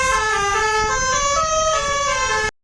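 A loud, sustained multi-tone Indian bus horn blares continuously for about two and a half seconds, then cuts off abruptly, with no other sound alongside it.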